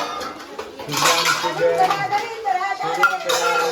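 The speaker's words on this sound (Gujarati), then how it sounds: "જો આ વાસણ કઈ રીતે ધોવે છે" Utensils clatter and clink as dishes are washed during a household challenge, with bright metallic knocks and running water continuing throughout while people talk over it.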